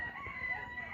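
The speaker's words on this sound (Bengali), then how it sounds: "এই সাইডে কিন্তু আমরা দেখতে পাচ্ছি মুরগি" A rooster crows in a park, a thin, drawn-out call heard at moderate distance over low background hum, lasting the full second.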